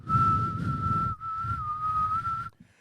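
A person whistles a steady, clear melody from the Titanic theme tune. There are two long phrases with a short break between them, heard close and alone over a low background murmur.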